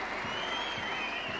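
A rugby crowd at the 1991 Hong Kong Sevens applauds Fiji's win with steady, dense clapping and a distant roar, heard throughout at moderate level.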